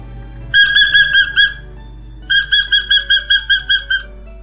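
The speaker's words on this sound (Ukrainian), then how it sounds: "Завітав до нас папуга." A parrot gives two loud, close bursts of shrill, whistling chirps, each a quick rhythmic run of repeated notes separated by a short pause.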